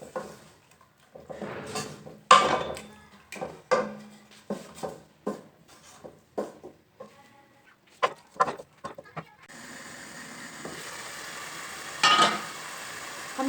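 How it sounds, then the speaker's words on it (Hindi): Bottle gourd stirred into tomatoes in a pan, a run of separate scraping and clattering strokes of spoon against metal, followed by a steady frying sizzle that continues to the end. "अब डालेंगे लौकी। अच्छी तरह से मिक्स करेंगे।"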